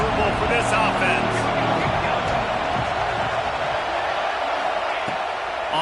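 Dense, continuous stadium crowd roar from a college football video game, Miami at Penn State, a loud steady wash of cheering and babble that persists throughout.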